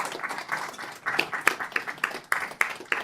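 Scattered audience clapping at a Princeton University evening talk greets a guest speaker, sparse, uneven claps of moderate loudness rather than a full ovation, with no voices over them.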